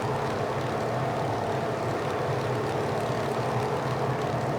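Grumman F3F biplane in a flight simulator game, a steady droning propeller engine at constant power, loud and continuous with a rough rumbling texture and no voices.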